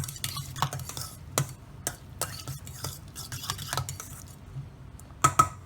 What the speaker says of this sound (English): And add about 1 tablespoon of olive oil. Just give that a quick mix.